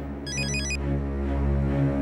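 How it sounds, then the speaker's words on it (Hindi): An electronic phone ringtone gives a quick burst of bright, warbling beeps for about half a second over a loud, low, sustained dramatic music bed in a Hindi TV drama scene. "किसका फोन है?"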